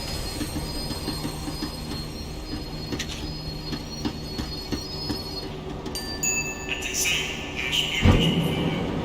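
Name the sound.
tram slowing down, wheels squealing, in the video game Max Payne 3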